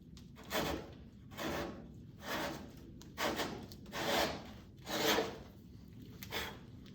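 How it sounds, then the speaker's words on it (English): A hand saw cutting a bevel into a thin 3/8-inch wooden boat plank, its strokes rasping in a steady back-and-forth rhythm of about seven close, clear pulls and pushes. "I'm just gonna saw on this end more than this end."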